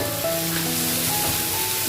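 Kelakai, a leafy fern vegetable from Kalimantan, stir-fries in a hot pan, producing a loud, continuous close-up sizzle and hiss with no break and no voices.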